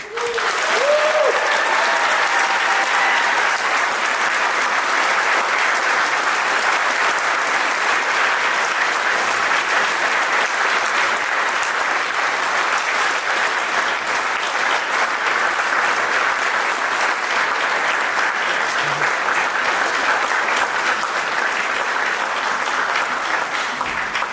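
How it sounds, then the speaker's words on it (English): A concert audience at a wind ensemble performance gives Mr. Todd a sustained round of applause, steady and dense clapping filling the hall for the full stretch without letting up. "Join us in appreciation for Mr. Todd with a round of applause."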